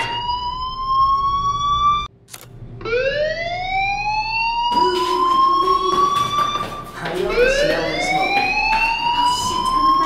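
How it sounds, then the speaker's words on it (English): Fire alarm in the Life is Strange video game, a loud rising electronic wail that sweeps upward repeatedly, cutting out briefly near the start and then continuing steadily throughout. "do you hear that fire alarm? That means you should be outside."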